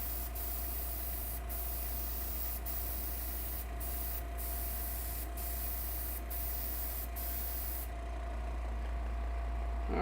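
An airbrush sprays coats of paint onto HO scale model restaurant buildings, giving a soft, continuous airy hiss over a steady low hum, broken by several brief pauses before the spray stops near the end.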